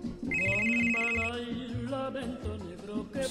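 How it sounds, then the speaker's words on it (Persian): A mobile phone rings indoors in a comedy series kitchen scene, its electronic ringtone melody repeating loudly and steadily over a background music bed. "گوشیت زنگ میزنه."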